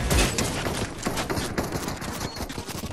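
Rapid bursts of automatic gunfire from a weapon fired into the air in a shooter game, loud and close, a dense rattling stream of shots with no pauses.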